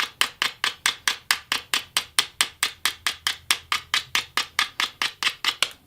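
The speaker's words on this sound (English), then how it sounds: "I like to basically scrape off the tip section." Steady, rapid scraping strokes clean old glue off the tip section of a graphite golf shaft, about four crisp rasps per second repeating evenly and close up, with no talking.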